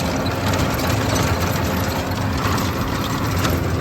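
Tractor engine running steadily in first or medium gear while ploughing a field to prepare soil for potato mulching, a continuous loud drone with no pauses and no talking over it.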